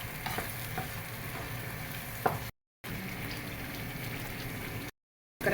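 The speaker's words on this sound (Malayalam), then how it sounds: "നമ്മൾ 2 സ്പൂൺ നെയ്യും കൂടെ ചേർത്ത് കൊടുത്ത് നല്ലപോലെ ഇളക്കിക്കൊണ്ടിരിക്കുകയാണ്." Banana halwa with two spoons of ghee being stirred in a hot pan, a steady close sizzle with soft scraping strokes and a few sharper clinks, broken by two short silent gaps.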